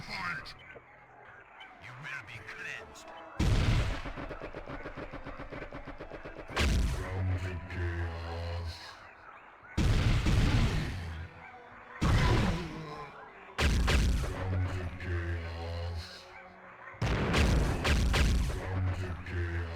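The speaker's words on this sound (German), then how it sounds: "Da hat er eine Granate geworfen." Grenade blasts from the 1998 video game Warhammer 40k Chaos Gate, a series of loud, broad booms recurring every few seconds with quieter gaps between, while people talk over the game.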